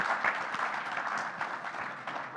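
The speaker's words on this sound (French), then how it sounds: "je vous demande de les applaudir" An audience at a Moroccan port and supply-chain panel applauds the panelists, a steady dense clapping that carries on for the whole stretch without a break.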